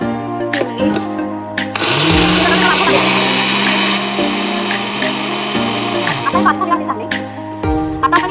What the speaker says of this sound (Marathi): आपण आता हे मिक्सरला बारीक करून घेऊया